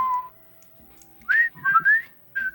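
A person whistles several short melodic phrases, clear and close, with quiet pauses between the bursts and no talking.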